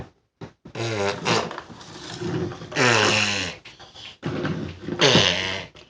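A small child imitates a fart with his voice, blowing wet, buzzing raspberries in several bursts with short pauses between them, close to the microphone.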